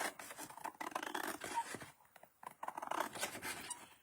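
Scissors cutting through paper card for a handmade expandable tri shutter card, producing close, soft rasping snips and scrapes in uneven bursts with a brief pause midway.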